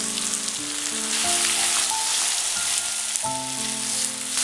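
Tomato tossed into a pan of softened onions frying with crushed garlic and green chili, giving a loud, steady, close sizzle that crackles throughout with no voices.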